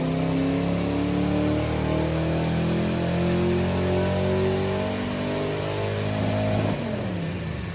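A Nissan 200SX fitted with a 4.0 V8 revs hard under boost on a dyno, a loud, sustained engine note climbing steadily through the rev range before dropping off sharply near the end.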